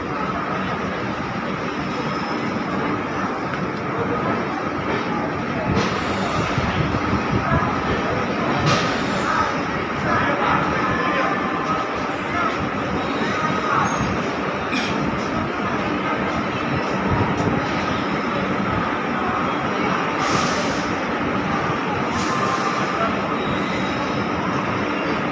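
Chandigarh railway station, a steady rumbling train and platform ambience with rail noise and occasional faint squeals and clanks, continuous and fairly loud for the whole stretch, with no clear talk.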